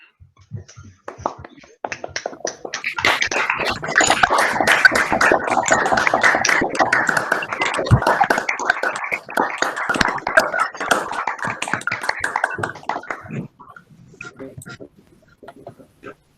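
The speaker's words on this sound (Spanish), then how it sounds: "Propongo un aplauso con micrófono." Audience applause at an open talk on the working conditions of choir directors. The clapping is dense and steady for about ten seconds, then thins to scattered claps with a few voices as it fades.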